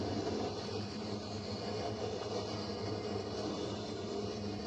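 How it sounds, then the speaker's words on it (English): A Norfolk Southern grain train passes in the rain, its wagons producing a faint, steady rolling rumble heard from a distance throughout. "Man, this train's quick."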